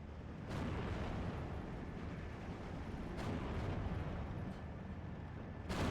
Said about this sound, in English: M3A1 half-track goes down to artillery